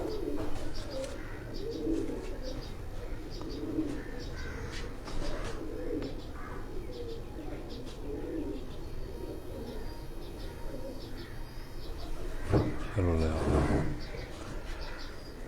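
Pigeons coo steadily in low, repeating phrases, joined by light chirps; near the end a brief voice and louder bird call rise over the flock's murmur.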